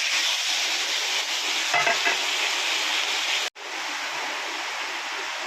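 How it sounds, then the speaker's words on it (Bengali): Bottle gourd frying in a little hot oil left from frying fish, a dense, steady sizzle with a short burst of stirring clatter and a momentary drop-out before the hiss continues. "মাছ ভাজার তেলটা তুলে রেখে যে অল্প একটু তেলের মধ্যে লাউটা দিয়ে দেবো।"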